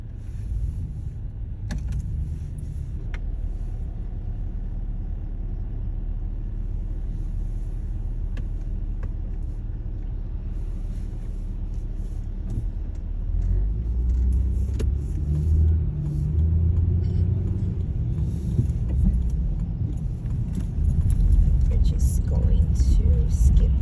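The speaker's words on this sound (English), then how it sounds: "Some of this traffic." Busy city street traffic on Coney Island Avenue in Brooklyn, New York, a steady low rumble of passing cars that swells louder toward the end, heard from inside a moving vehicle with occasional clicks.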